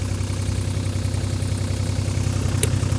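An old Takeuchi digger's engine idles with a steady, close, low diesel rumble and even throb for the whole stretch, and no one speaks.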